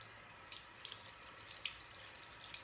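Tap water running over a bar of 100% coconut oil soap, with a soft, steady trickle and light splashes, faint and close, without talk.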